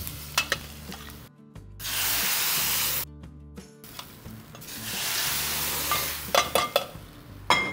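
Spice powder tossed into a hot pan of ridge gourd dal, bringing two loud bursts of sizzling frying hiss between softer stirring clatter and light taps, all close and with no talking.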